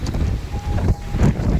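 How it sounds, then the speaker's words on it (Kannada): Strong wind roars and buffets steadily against the microphone in gusting waves, loud and close, with a faint thin whistling tone partway through. "ಅಲ್ಲೇ ಗಾಳಿ ಜಾಸ್ತಿ ಇದೆ."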